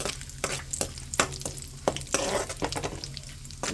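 Dry fruits fry in a pan for carrot halwa, with a soft sizzle under sharp, regular scraping stirs of a spoon, heard up close.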